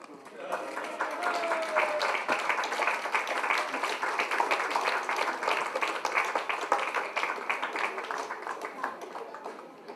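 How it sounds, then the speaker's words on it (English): Audience at a book launch claps steadily for several seconds, a dense, even patter of many hands filling the room at moderate volume before tapering off slightly near the end. "Those of you who don't have a book in your hands, you can clap."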